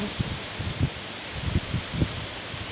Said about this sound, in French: Je ne sais pas si vous entendez bien le vent.